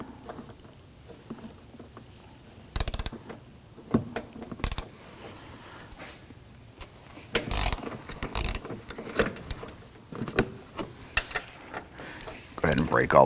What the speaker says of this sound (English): I'm going to use my ratchet to break this one free.